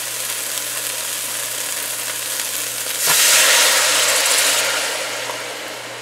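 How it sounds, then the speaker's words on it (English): Spices for a snapper fish stew fry in a pot with a steady sizzle, swelling to a louder hiss midway before easing back, over a low constant hum. "we are letting this fry up there"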